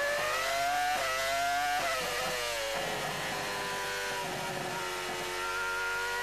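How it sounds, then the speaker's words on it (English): A Honda V10 Formula One engine in a Jordan car howls at the 2002 Hungarian Grand Prix, loud and constant, its pitch dipping on the downshifts and climbing again under hard acceleration. "Let's listen to the Honda engine working hard."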